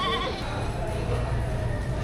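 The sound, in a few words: goats bleating at a livestock market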